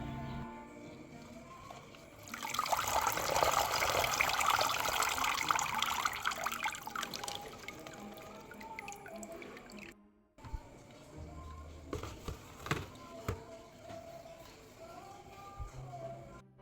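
Washed rice being rinsed and drained for ketupat: a rush of pouring water for several seconds, then quieter drips and wet trickling, close by, with a brief break partway through.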